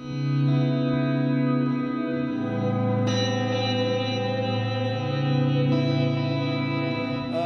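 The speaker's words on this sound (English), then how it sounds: "we got an auto swell built into this preset, so it's even more cool for ambient stuff" Sustained electric guitar chords through a Line 6 Helix modeler auto-swell preset swell in gently without a sharp attack, blooming into a lush, echoing ambient wash that holds and shifts between chords.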